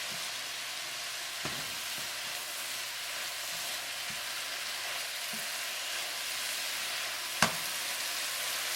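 Beef and cabbage stir fry with cooking sherry sizzles steadily in a hot pan, a constant hiss with a few light clacks of stirring and one sharp knock near the end.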